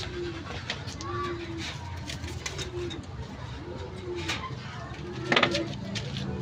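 Pigeons cooing in a loft, repeated soft low coos in a slow rhythm, close, with occasional wing flutters and background rustle.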